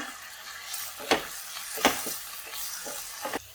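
Broccoli biryani masala with lemon juice and curd being sautéed in a pan, a soft sizzle broken by a few sharp scrapes and clinks of a spoon stirring, close and fairly quiet.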